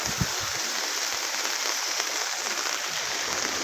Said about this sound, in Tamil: மழை பேஞ்சிக்கிட்டு தான் இருக்குது